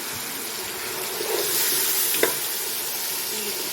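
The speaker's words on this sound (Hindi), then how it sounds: "अब इनको हम इतना थोड़ा भूनेंगे जब तक ये हमारे टमाटर अच्छी तरह गल जाए" Chopped tomatoes frying in oil, a steady close sizzle with a soft stirring scrape and one brief clack of a spoon midway, no speech.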